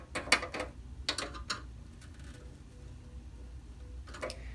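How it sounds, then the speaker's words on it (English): A screw turns against a nut held with pliers on a Technics turntable dust cover hinge bracket, giving a few close, sharp ratcheting clicks in short bursts with quiet pauses between. "grab a pair of pliers and hold the nut"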